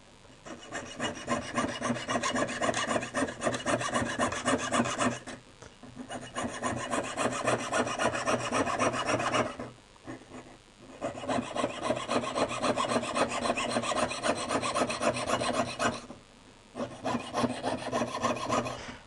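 A hand saw rasps steadily through metal sheet for mokume gane earrings in three long runs of rapid back-and-forth strokes, separated by short pauses.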